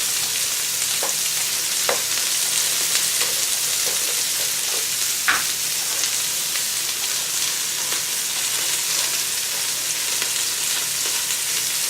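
Curry spices and onions fry in a pot for crab soup, a steady dense sizzle filling the clip with a few sharp clicks and stirring scrapes scattered throughout, close and continuous with no talking.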